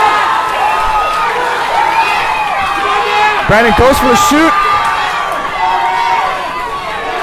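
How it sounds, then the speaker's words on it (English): Crowd at a mixed martial arts fight between Brandon Maynard and Adam Gould, cheering and shouting steadily behind an excited commentator, with a brief louder surge midway. "The crowd is really behind this one. The crowd is into it."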